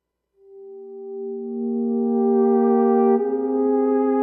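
A Haken Slim21 Continuum plays a single sustained synth tone that swells steadily louder and brighter as finger pressure increases, with a slight change near the end, heard alone.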